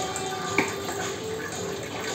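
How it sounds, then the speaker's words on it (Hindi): Water poured into blended dal for Gujarati daal dhokli, a soft steady pouring wash with one small splash near the start, fairly quiet and continuous. "बस और पानी डाल देती हूँ।"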